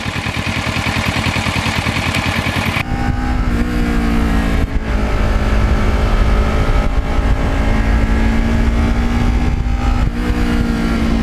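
A twelve-year-old Kawasaki Ninja motorcycle rides along winding mountain back roads, its engine droning loud and close without a break, the pitch rising and falling with gear changes and throttle.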